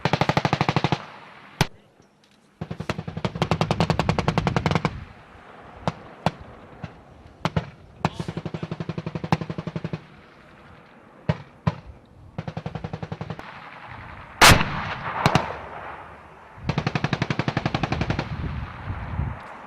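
Long bursts of rapid M240 machine gun fire during a US Marine infantry exercise, loud and close, broken by single sharp shots and short pauses, with 60mm mortars in use.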